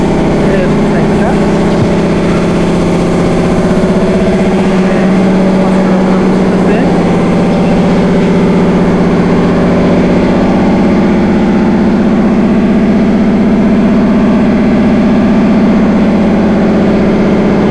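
Several motorcycle engines idle in the bike wash area of the Suzuki 5S Arena service center in Bangladesh, a loud, steady droning hum that fills the space continuously, with faint voices mixed in.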